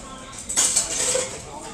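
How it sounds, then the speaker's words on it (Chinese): A spoon crushes lemon in a glass of lemon tea, making a short burst of clinking and grinding of metal against glass that fades into lighter rattling. "柠檬茶一定要把这个柠檬剁碎，那个酸味儿，柠檬的那个味儿才会出来"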